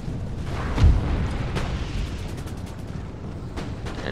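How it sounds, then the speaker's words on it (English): Cannon fire from an Empire: Total War siege battle, a series of muffled booms at a steady mid distance, with one heavier blast early on and several fainter shots spread through the rest amid a continuous rumble of battle. "definitely want to stop our cannons from shooting canister shot"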